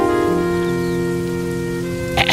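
Rain falls steadily as a loud, continuous hiss throughout, mixed with sustained droning tones and a brief burst of sound near the end.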